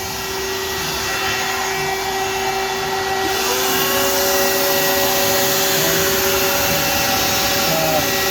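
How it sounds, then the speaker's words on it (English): A shop vac runs steadily and loudly throughout during trash roll-out assembly work, a continuous whine with a slight shift in pitch partway through. "Next thing I'll do is I'll get the shop vac."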